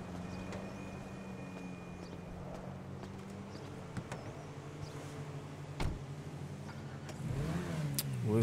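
A car driving in the video game GTA 5, its engine humming steadily then revving louder near the end, with a few faint knocks along the way.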